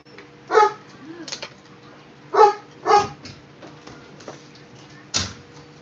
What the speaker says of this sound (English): And there's my dog barking.